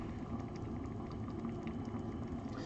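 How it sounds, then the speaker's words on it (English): Pasta boiling in a pot on a home stove, a faint, steady bubbling simmer with no talk. "just gonna watch the pasta cook."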